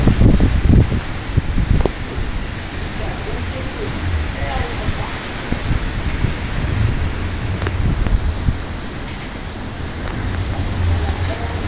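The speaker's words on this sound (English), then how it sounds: "See, the wind's blowing real nice." Strong wind during Hurricane Harvey blows as a steady outdoor roar with rushing gusts and buffeting on the microphone, continuous and loud throughout.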